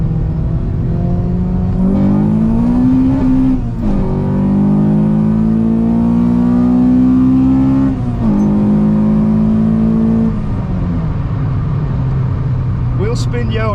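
A K20-swapped Honda Jazz engine accelerating hard through the gears, its rising intake and exhaust note climbing steadily with brief dips at each shift, loud and close from inside the car.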